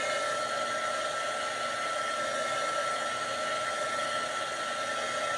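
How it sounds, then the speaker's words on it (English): A crafting heat tool, hotter than a hairdryer, blows air with a steady, even, whirring hiss at a close, consistent level and no breaks. "Is that drying device you're using the same idea as a hairdryer or hotter heat?"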